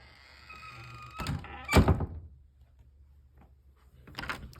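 A door fitted with a door closer swings shut with a soft creak, then a solid thunk as it latches, followed by quiet and another muffled knock a couple of seconds later.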